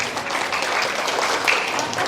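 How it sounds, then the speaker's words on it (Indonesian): A seated congregation at an umrah preparation gathering claps together in a steady, dense burst of applause that holds at even loudness throughout, with no talking over it. "Tepuk tangan buat kita semuanya"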